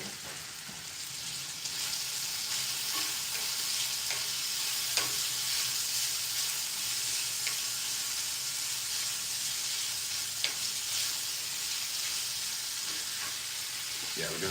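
Bacon fries in a pan on a hot cooktop, giving a steady, dense sizzle and crackle that holds level throughout, with occasional sharper pops and scraping or stirring over it.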